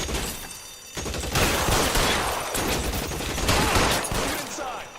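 Repeated bursts of gunfire in a shootout during a bank robbery in the game L.A. Noire, loud, dense and continuous for several seconds, with a short lull near the start.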